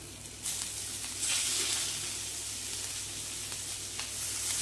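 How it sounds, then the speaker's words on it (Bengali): Chopped cabbage tipped into a pan of frying spices for a Bengali fish-head cabbage curry, a sudden surge of loud hissing sizzle that swells again and stays steady and close. "আর এবারে দিয়ে দিচ্ছি কুচিয়ে রাখা বাঁধাকপি।"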